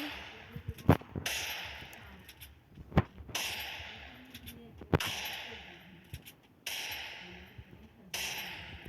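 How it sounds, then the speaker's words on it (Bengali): Gunfire rings out in a shooting video game as headshots land: a few sharp, loud single shots spaced about two seconds apart, each cutting through a quieter background. "দেখুন ভাই, খুব হেডশট লাগতেছে।"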